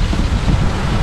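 A strong gust of wind buffets an open outdoor spot beside a camper van, a loud, rumbling rush that batters the microphone steadily throughout with no talk.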